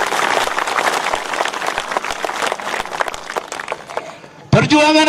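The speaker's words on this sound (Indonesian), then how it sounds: "Tepuk tangan untuk Tuhan, luar biasa." An audience at an anniversary celebration in the Bintang mountains claps in sustained, lively applause for over four seconds, then a voice cuts in loudly at the end.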